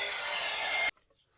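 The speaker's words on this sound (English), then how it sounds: "here's the heat gun again, so excuse the noise" A heat gun gives a loud, steady blowing roar that cuts off abruptly after about a second, followed by quiet.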